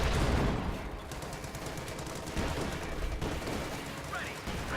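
Rapid gunfire and bursts of machine-gun fire crackle through a Company of Heroes 2 battle in the Ardennes, dense and continuous with rumbling impacts, under a voice shouting.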